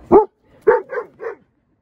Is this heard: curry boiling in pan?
no